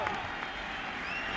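A baseball stadium crowd roars and applauds for Yankees pitcher Roger Clemens against the Diamondbacks, a loud, sustained wash of cheering that runs through the whole brief moment.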